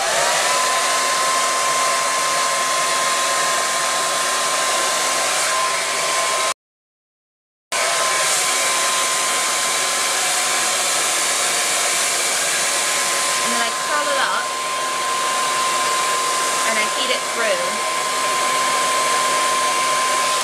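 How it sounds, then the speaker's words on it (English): A hair dryer blow-drying hair around a metal round brush runs as a loud, steady close-up roar, cutting out for about a second midway before resuming, with faint brush movement under the noise. "This brush is metal, so when I blow dry it, it heats up the metal barrel"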